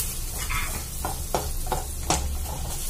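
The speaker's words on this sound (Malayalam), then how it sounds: "അപ്പോൾ ഈ പച്ചമുളകൊക്കെ ഒന്ന് ഇതിൽ വഴണ്ടി വന്നിട്ടുണ്ട്" Green chillies and garlic sautéing in melted butter in a pan, a steady sizzle throughout with several spoon scrapes and stirs cutting through, close and fairly loud.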